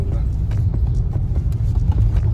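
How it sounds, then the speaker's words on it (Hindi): Steady road traffic on a highway service road while the main highway is closed, a dense low rumble of cars and engines with passing vehicle noise, moderately loud and continuous. "सर्विस रोड पे तभी तो ट्रैफिक हो रहा है।"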